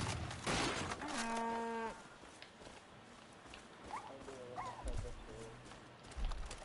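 A cow in the video game Far Cry 5 gives a drawn-out moo, followed later by softer animal calls, amid game ambience and brief thuds.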